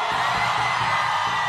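A concert crowd at a sertanejo show in Rio de Janeiro shouts together in a dense, loud roar of whoops and yells that fills the whole moment.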